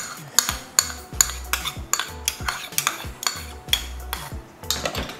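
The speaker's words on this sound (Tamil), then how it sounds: "இப்போ நல்லா மிக்ஸ் பண்ணிட்டோம்னா நம்மளுக்கு வந்து புளியோதரை பேஸ்ட் ரெடி" A metal spoon stirs thick tamarind rice paste (puliyodharai) in a bowl, making quick, rhythmic scraping and clinking strokes, a dozen or so in a row, close and clear.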